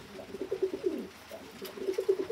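Pigeons in a loft give a run of soft, low, throaty coos, repeated in an uneven rhythm at close range with no talking.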